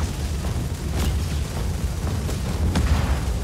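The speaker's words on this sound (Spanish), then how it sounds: "A ver, venga, explosión." An explosion in the video game Just Cause 4 gives a dense, rumbling boom with a few sharper bursts inside a constant roar of low noise.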